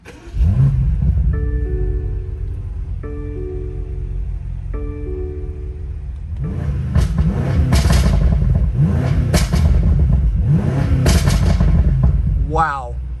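A 2019 BMW M5 Competition (F90) turns over with a starter whir, catches and roars to life, then blips through several sharp, loud revs with crackling exhaust pops from open valves, close and dominant.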